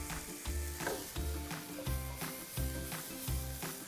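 Chopped tomatoes frying in a hot pan with salt for paneer bhurji, a steady close sizzle broken by regular stirring scrapes in an even rhythm, with no talking.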